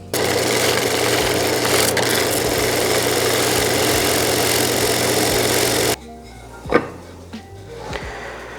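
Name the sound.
disc sander flattening glued segmented bowl ring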